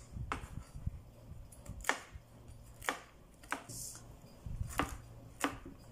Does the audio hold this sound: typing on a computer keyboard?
no